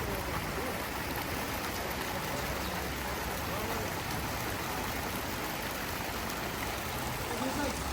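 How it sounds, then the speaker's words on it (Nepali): Steady rain falls outdoors in misty, foggy weather, a dense even hiss that fills the whole stretch at moderate distance with no break or voices. "पानी परिरहेछ कुहिरो लागिरहेछ"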